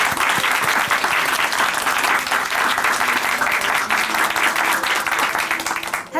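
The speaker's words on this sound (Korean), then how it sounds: "박수 올려드리겠습니다." A church congregation in Chuncheon gives loud, sustained applause after a testimony, a dense, steady roar of many hands that lasts for several seconds and fades at the end.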